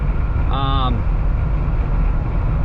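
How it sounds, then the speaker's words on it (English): Wind roars inside the cabin of a 2020 Jeep Gladiator with a removable top as it drives, a loud continuous low rumble throughout, with a brief whistling tone rising above it early on. "Obviously you guys can probably hear the wind, but that's just pretty common with any Jeep because the top is removable."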